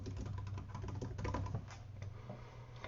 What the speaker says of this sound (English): So your client can type their message to you here.